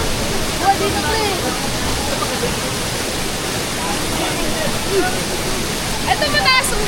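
Broad, steady roar of a waterfall at Infanta, Real, rushing continuously at close range, with faint voices in the background.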